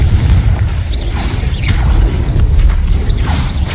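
Confringo fire blast spell from Hogwarts Legacy, heavy booming low rumble bursting continuously under bright swooshing sparkle sweeps, loud and close throughout.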